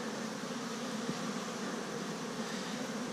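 Honeybees buzz around a hive entrance, carrying pollen in and leaving quickly, a faint, steady, dense hum with no voices.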